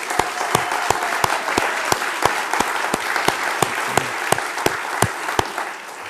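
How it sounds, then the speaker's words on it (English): A neighborhood meeting audience applauding its Pride team, steady dense clapping with a regular series of sharp, prominent claps standing out on a near-even beat, sustained at moderate loudness throughout. "Let's give them a round of applause."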